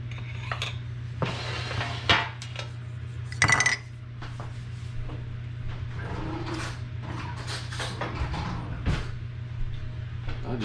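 A tablespoon scoops Southern chocolate gravy in a home kitchen, scraping and clinking against a mixing spoon and bowl in a series of light metallic taps and scrapes over a steady background hum.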